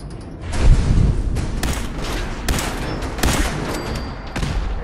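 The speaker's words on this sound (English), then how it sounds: "What else is shooting at me? Oh, a laser turret or something." A laser turret in Fallout 4 fires at the player in a rapid volley of sharp, crackling zaps with bright high ringing tones, several bursts spread across the clip at steady, fairly loud level.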